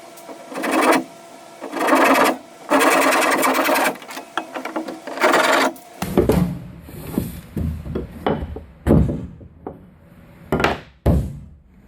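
A power saw trims a wooden carlin on a Core Sound 15 boat build, with loud sustained buzzing cuts for about six seconds, then sharper knocks and short rasping strokes as the cut finishes.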